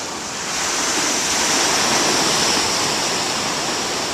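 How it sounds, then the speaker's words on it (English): Ocean surf breaking at Okaloosa Beach in Florida, a steady loud wash of crashing waves that swells in the first half-second and then roars on continuously, with no voices over it. "But the waves are getting bigger and bigger and bigger."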